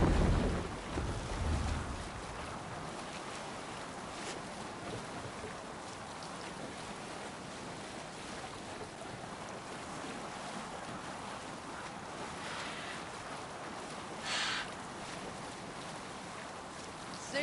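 A Viking longship sails across open water in Assassin's Creed Valhalla, with a steady wash of waves and wind noise throughout and a brief low thud near the start.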